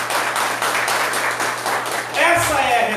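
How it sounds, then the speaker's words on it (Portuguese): A church congregation claps in a dense, close wash of applause that carries steadily, with a voice cutting in near the end. "Aplaude o Senhor."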